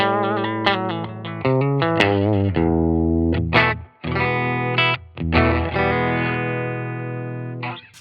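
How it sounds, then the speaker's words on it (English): A Clydesdale Guitars Warhorse electric guitar with Righteous Sound pickups plays through a Silktone amp, close and loud, with strummed distorted chords and picked notes in uneven bursts and short gaps. "Silktone amp sounds like this."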